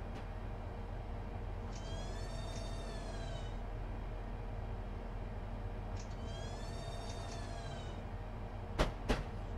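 A Class 395 electric train running on third rail in Train Simulator 2016 gives a steady low hum with two rising-then-falling motor whines and a pair of sharp clicks near the end.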